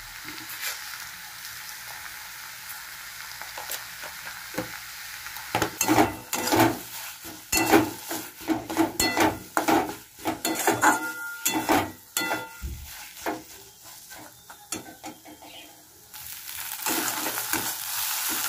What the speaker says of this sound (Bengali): যতক্ষণ না জলটা শোকাচ্ছে ততক্ষণ এটাকে নাড়তে থাকবো।